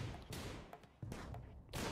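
Faint bursts of gunfire from combat in the Rimworld game, a few quick shots spaced through a short stretch, heard low in the mix.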